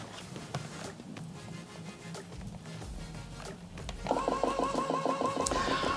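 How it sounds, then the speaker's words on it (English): LaserNet 200 oil analysis system with an onboard peristaltic pump drawing an oil sample through a sipper tube, a soft mechanical hum that turns into a rapid, regular pulsing rhythm in the last seconds, close and moderate. "the onboard peristaltic pump draws the oil up through the sipper tube and in through the internal tubing"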